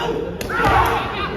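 An Air Force team's serve kick in a sepak takraw final against the Navy lands as one short, sharp thud, heard under continuous excited commentary in Thai.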